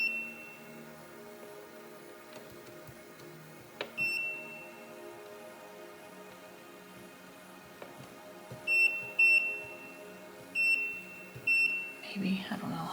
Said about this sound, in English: I will look and see if there's a way to turn off the beep